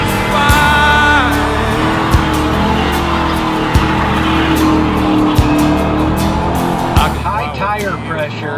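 A supercharged Corvette spins its tires with traction control off, a loud sustained engine roar and tire squeal that runs almost the whole time, with a few sharp thumps and a voice heard over it.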